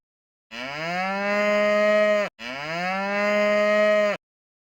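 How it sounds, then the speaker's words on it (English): A cow lets out two long, loud, droning moos back to back with only a brief break between them, close and clear against silence. "cow"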